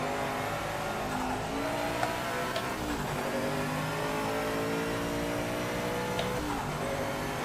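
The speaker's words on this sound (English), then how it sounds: "They're very brutal in this game. Oh, those downshifts." A race car in Project Motor Racing revving hard through brutal downshifts, engine pitch sweeping up and down steadily with sharp blips, loud and close with no talk.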